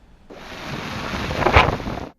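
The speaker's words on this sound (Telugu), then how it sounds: "ఉధృతంగా కురుస్తున్న వానలతో జిల్లాలో జనజీవనం స్తంభించిపోయింది" Heavy monsoon rain with thunder in Mulugu district, a rising roar of downpour and rumbling storm that swells to a loud peak near the end, then cuts off abruptly.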